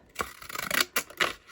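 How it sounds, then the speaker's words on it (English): Decorative deckle-edge scissors cut through paper for vintage junk journaling, giving a few close, crisp rasping snips in quick bursts with no talking. "You can also use these decorative scissors."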